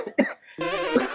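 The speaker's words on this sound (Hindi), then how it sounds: "इतनी तेज खांसी आवत बा" A strong, harsh human cough in two bursts, close and loud, the second a drawn-out hacking fit, with no talk over it.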